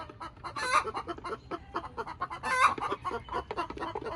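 Backyard chickens, including olive eggers and Easter eggers, cluck softly in a steady, scattered patter, with a couple of louder bursts of clucking from nearby birds.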